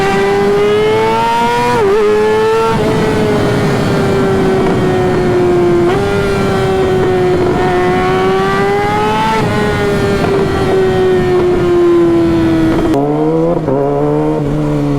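A Kawasaki ZX-6R sports motorcycle screams at full throttle, its engine note climbing steadily through the gears with brief dips at quick-shifter changes, loud and close throughout with no talk.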